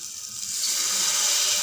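Water pours steadily into a hot pan of biryani masala for eggplant biryani, a rising hiss and bubbling sizzle that grows louder and fuller over a second and a half.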